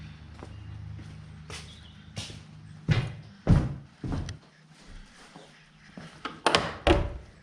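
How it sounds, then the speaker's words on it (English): Heavy old church doors being opened, giving several dull wooden thunks, knocks and creaks spread over a few seconds, close by and fairly quiet, with shuffling movement between them. "Big old doors as usual."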